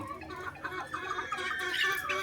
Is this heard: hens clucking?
yes